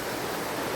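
Steady rushing flow of water from a cold spring, a broad continuous wash that holds even and unbroken, close and moderately loud with no talking.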